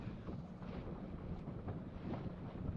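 Strong gusts of wind batter the microphone at an abandoned sailing race near a tree-lined shore, a continuous low roaring rumble that swells and surges throughout with no voices.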